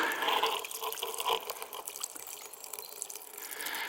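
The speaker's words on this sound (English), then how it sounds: "the water is coming out of the pond and down into the stream" Overflow water running out of a garden pond and down into a stream makes a steady, close trickling and splashing sound with no voices.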